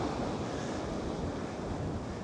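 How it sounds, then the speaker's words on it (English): Ocean surf washing steadily against a shoreline, a continuous broadband rush with wind buffeting the microphone, close and fairly loud, with no talking. "being able to watch the ocean, listen to the ocean, and relax"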